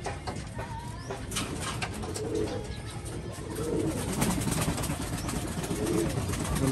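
Racing pigeons coo softly in a loft, low repeated rolling calls over a faint background of rustling and wing movement, with no voices heard.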